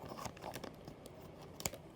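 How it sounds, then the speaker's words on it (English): Scissors cutting open a plastic bag of pre-decimal UK coins, heard as close, faint crinkling with a few sharp snips and rustles. "This time, just for this one, we're going to use a set of scissors."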